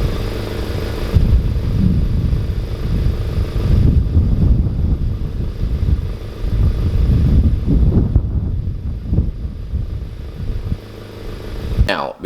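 A catless Honda Civic Type R exhaust with catless downpipe and front pipe rumbles about 15 feet away, a steady loud drone that swells and eases with revs for most of the stretch, plus some wind buffeting.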